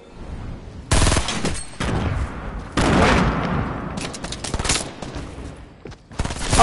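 Gunfire in the Fortnite video game: several loud, close bursts of shots in rapid clusters, with gaps between volleys and a final burst at the end, no talking.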